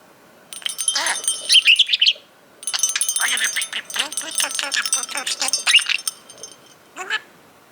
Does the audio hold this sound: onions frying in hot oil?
no